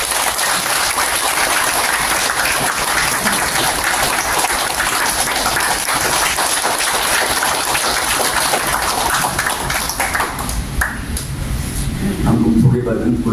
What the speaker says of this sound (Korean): 고영태 변호사님을 박수로 환영합니다.